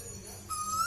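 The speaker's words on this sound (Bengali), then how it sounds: "আর একটা কোকিল ডেকেই যাচ্ছে সেই বিকেল থেকে," A koel calls in the evening with a single clear whistled note that begins midway and holds steady, fairly close, over a quiet low background.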